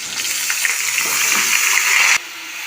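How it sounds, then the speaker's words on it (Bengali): Jackfruit pieces fry in mustard oil in a pan with browned potatoes, giving a steady, close hiss and sizzle that stays loud and even before cutting off sharply near the end. "এঁচড়গুলি এর মধ্যে দিয়ে ভেজে নেব।"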